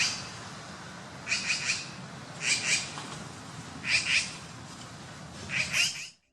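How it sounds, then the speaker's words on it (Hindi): Magpies call out to others in the area, four spaced bursts of harsh, chattering cries at moderate distance over a soft outdoor background. "जब एक मैगपाई को मरा हुआ साथी मिल जाता है तो वो उस इलाके के दूसरे मैगपाई को आवाज देकर बुलाता है"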